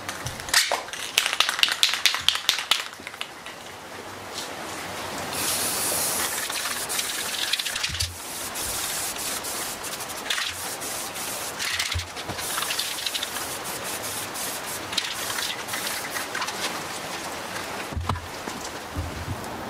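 Spray gun applying a tan camouflage coat to a plate carrier, giving a steady airy hiss that runs in long bursts with short pauses, interrupted by a few clicks and handling noises, close and fairly loud with no talking.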